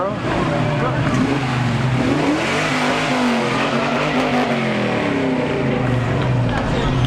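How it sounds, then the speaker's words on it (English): Chevrolet Camaro rolling past in a Labor Day parade, a steady engine drone with rising and falling tones close by, under continuous crowd chatter and talk. "Another Camaro."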